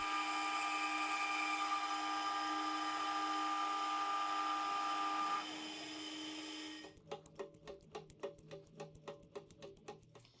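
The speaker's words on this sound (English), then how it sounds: "I've just got an M5 hole to drill and tap." A steady high-pitched whine of a machine drilling an M5 hole in metal runs for several seconds, then gives way to a rapid series of rhythmic mechanical clicks.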